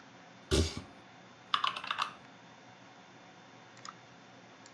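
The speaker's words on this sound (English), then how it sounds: "I can hear you typing." Keys on a computer keyboard clatter in a few quick, quiet bursts of typing, separated by near silence and a soft background hiss.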